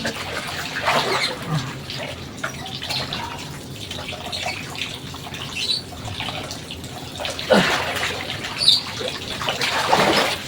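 Water splashing and sloshing outdoors as people bathe in a river, with a few louder splashes near the end and faint birds in the background.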